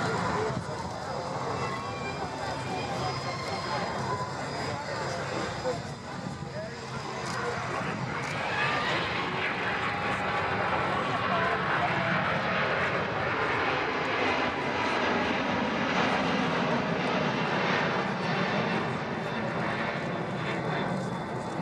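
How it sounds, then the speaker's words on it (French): An Airbus A380 in Hi-Fly Malta's "Save The Coral Reefs" livery makes a go-around at an air display, its jet engines a broad, rising roar that swells and sustains, with a commentator talking over it. "Remise des gaz pour un atterrissage sur la piste 25."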